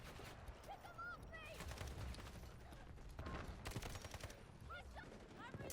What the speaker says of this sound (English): I can hear gunshots on the right.